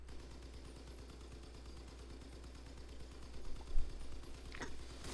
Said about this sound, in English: This is just the Leviathan that's sole purpose is having 30 machine guns.